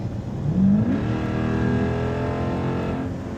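Jeep Grand Cherokee SRT 392 V8 with a Banks pedal controller accelerating, a loud close engine note rising in pitch and then holding a steady rumbling drone, with no talk.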